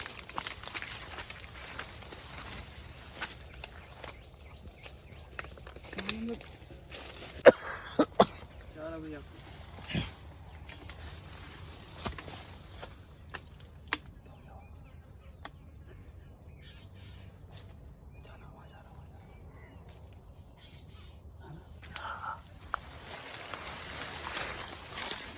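Crows caw in short bursts against a quiet outdoor background, a few harsh calls spaced out and moderately distant, with occasional soft sounds nearby.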